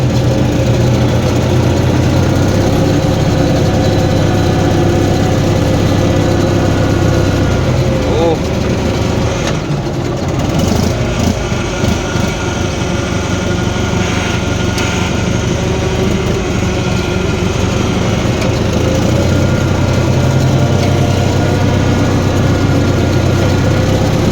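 An old vehicle, part of a machinery-moving job, drives along with a steady mid-pitched engine drone that holds throughout, with a brief dip in the middle, and a voice talks over it.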